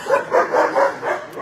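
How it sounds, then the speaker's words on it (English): Several dogs bark in a repeated rhythmic series at an animal shelter, fairly loud and close, with a reverberant kennel-like room tone behind them. "But we got to show them off, both these dogs, Zoe and Princesses."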